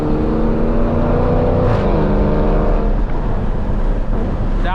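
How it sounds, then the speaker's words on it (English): A Dodge Challenger SRT engine revs and accelerates out of a canyon corner with a loud, sustained droning whine that rises and shifts in pitch, close to the microphone. "Once you're out, accelerate out of it."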